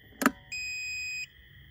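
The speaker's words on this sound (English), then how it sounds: "So please excuse the beeping. That's just part of my battery charger." A short click followed by a single sustained electronic beep lasting under a second, clear and close, from a jump starter battery charger.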